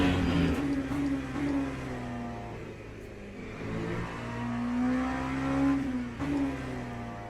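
An LMP2 race car engine in the sim racing game Le Mans Ultimate drones steadily, its pitch falling and climbing through gear changes and revs, heard alone at moderate volume.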